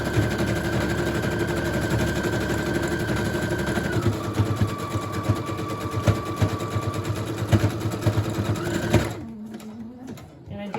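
A sewing machine runs a zigzag stitch across lace, its steady rapid mechanical chatter continuous and close for about nine seconds, changing pitch partway through, then stopping abruptly near the end.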